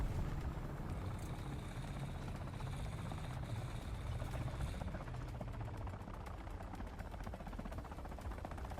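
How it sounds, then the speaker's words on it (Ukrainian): Steady rotor-like rumble of a helicopter in War Thunder, broad and continuous, with a rhythmic chopping texture in the background and no clear speech. "Тут ще гелікоптер десь."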